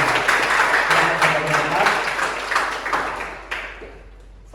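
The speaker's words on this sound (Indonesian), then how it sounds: "tepuk tangan untuk kelompok" Classmates in a school lesson clap for a student group after its presentation, brisk overlapping claps that gradually thin out and fade, ending in a few scattered claps.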